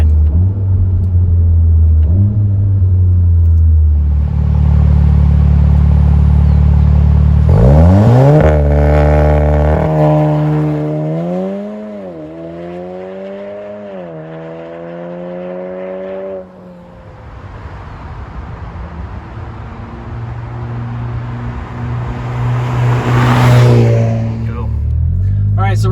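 A VW MK7 Golf R fitted with a Nameless Performance exhaust pulls hard from inside the car. The engine rumble climbs through rising revs and drops at a shift around 4,000 RPM, then drones on at about 55 mph, loud and close.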